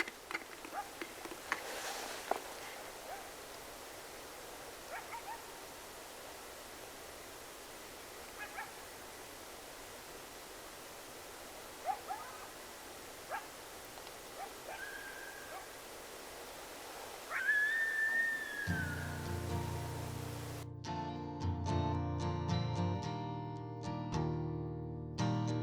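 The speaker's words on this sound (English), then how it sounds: "I'm trying to pick up the sound of the coyotes howling." Coyotes yip and whine faintly in the dark of the Pecos Wilderness, scattered distant calls over quiet night air with insects, before music comes in partway through.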